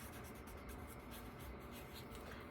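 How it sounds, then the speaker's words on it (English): A bold-tip marker pen writes on paper, giving a steady close scratchy rubbing with small stroke-by-stroke pulses and no talking. "One side is bold tip, so you could write a little title."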